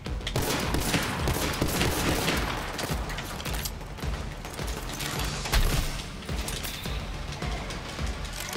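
Rapid gunfire from a weapon in the video game Borderlands 3, a dense continuous stream of loud crackling shots with mechanical clatter filling the whole stretch, no voices on top.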